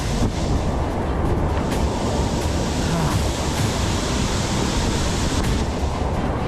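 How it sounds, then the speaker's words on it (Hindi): Very high waterfall roaring, a constant loud broadband rush of falling water heard close up and alone, with no break in the wash. "ये बहुत ऊंचा झरना है"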